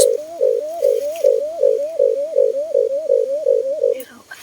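A wild dove coos in a steady repeated rhythm, about a dozen soft rolling notes in quick succession, close and clear with faint background noise.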